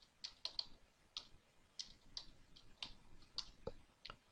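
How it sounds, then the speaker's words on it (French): A login and password are typed on a keyboard: a slow, sparse sequence of distinct close key clicks, about a dozen taps with uneven gaps, quiet and alone. "je tape le login, puis le mot de passe"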